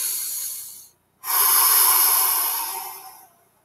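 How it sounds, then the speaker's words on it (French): Deep, slow breathing during a tai chi exercise, a long airy exhale, a short pause, then a full breathy inhale-exhale close to the microphone, with no talk. "On prend conscience de sa respiration."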